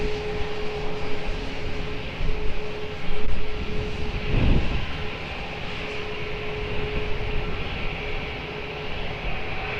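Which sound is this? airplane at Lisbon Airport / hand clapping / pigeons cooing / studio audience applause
airplane at Lisbon Airport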